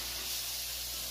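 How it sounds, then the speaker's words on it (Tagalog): Automatic release agent spray on a 350-ton Toyo die casting machine, heard as a short steady hiss of pressurized mist lasting about a second over a constant low factory hum. "Saka bababa yung spray."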